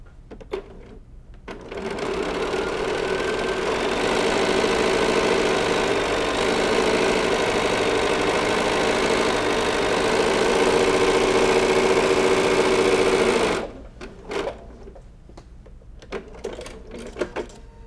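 A sewing machine quilts a strip quilt block, running in one loud, steady, continuous whir for about twelve seconds, with brief handling clicks and rustles before it starts and after it stops.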